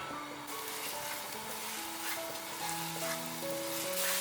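Minced ginger drops into hot oil in a pot and sizzles in a steady, even hiss that lasts throughout, with soft melodic music playing underneath.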